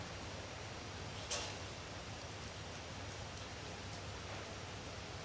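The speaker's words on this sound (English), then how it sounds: "there is an outrageous thunderstorm unfolding in Philadelphia, a downpour which has caused stark warnings for the area" Heavy thunderstorm downpour in Philadelphia, a steady hiss of rain at moderate loudness with one brief sharp crackle early on, no voices.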